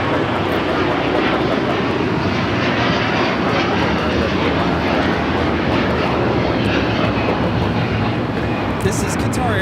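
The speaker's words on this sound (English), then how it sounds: "This is Qatar Airways 740 taking off to Doha on the A350-1000" A Qatar Airways Airbus A350-1000 takes off from LAX runway 25 right, with a loud, continuous broadband engine roar sustained across the whole stretch.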